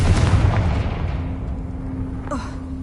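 A Confringo fire spell explodes in the video game Hogwarts Legacy, a loud, dull boom at the start that rumbles and fades over a few seconds, leaving a faint steady tone and a brief chime near the end.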